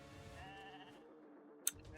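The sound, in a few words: sheep bleating in the video game Raid: Shadow Legends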